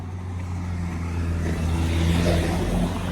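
A car goes by close on a street in Cappadocia, its engine rumbling low and steady and swelling slightly as it nears, with no one talking over it.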